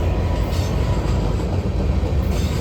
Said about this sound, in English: Decent sized train.